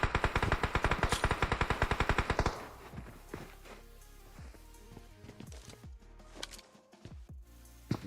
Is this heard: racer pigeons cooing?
no